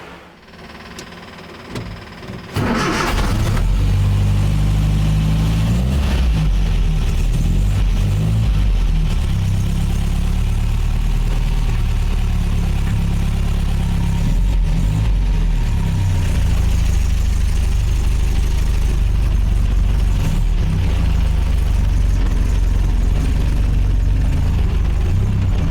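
An MGA sports car engine cranks and catches, then runs loud and close with a deep, throbbing low rumble. It holds steady for over twenty seconds with a few swells of revving.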